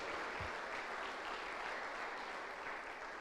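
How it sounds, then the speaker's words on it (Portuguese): Hands clapping across a church congregation at a night service form a steady, even wash of applause that sounds faint and somewhat distant throughout. "Bata as palmas para o Senhor nesta noite"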